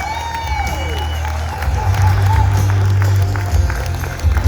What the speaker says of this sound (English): More round of applause for Blue Elam.